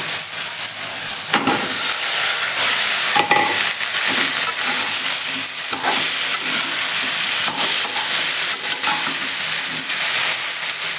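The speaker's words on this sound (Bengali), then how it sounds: "মশলা ভাজা ভাজা হয়ে গেছে দেখো মশলার উপরে তেল উঠে আসছে" Spices fry loudly in hot oil in a pan, a dense continuous sizzle broken by repeated bursts of stirring and scraping, close and alone.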